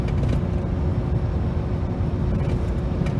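A truck with a continuously variable transmission drives along, its engine giving a steady, loud, unbroken drone mixed with road noise and no clear shift breaks.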